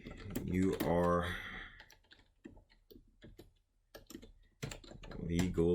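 Quick clicking keystrokes on a computer keyboard, mixed with a man's speech at the start and end and sparse, softer key taps in the quieter middle stretch.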